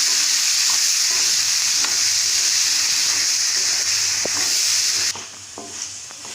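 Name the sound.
peas frying and being stirred in a pan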